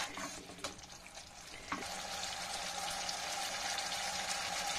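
Spice masala for a besan curry frying in oil and being stirred in a pan: a steady close sizzle with scraping stir strokes and a sharp clack partway through, no voices.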